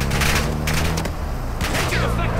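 Rapid, dense gunfire bursts in a shooter video game, loud and continuous, with a voice speaking over the shooting.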